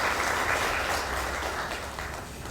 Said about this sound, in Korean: 곽윤희 부의장님께 다시 한번 큰 박수 부탁드립니다.